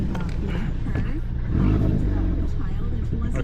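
Ford Focus ST engine idling on E43 flex fuel through a port injector controller, a steady close low rumble with a slight swell midway and faint clatter.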